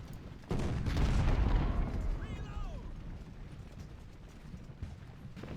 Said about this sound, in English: Just this, you know, cat and mouse game of shooting their artillery.